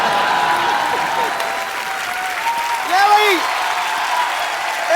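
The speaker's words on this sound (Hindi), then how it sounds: "तुम तालियां क्यों बजा रहे हो?" Audience applause washes steadily through a show taping, loud and continuous, while voices talk over it.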